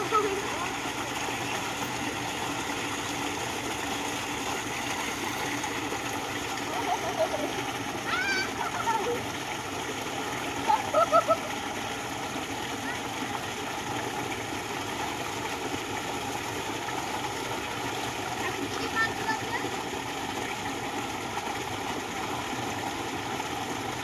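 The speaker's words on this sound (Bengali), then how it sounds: "বাড়ির সামনে আমাদের শ্যালো আছে, মানে মোটর যাকে বলা হয়, তো মাঠে জল দিচ্ছে" A shallow tube-well motor pump runs with a steady, continuous engine drone while water pours out into a field, heard up close and fairly loud throughout with no breaks.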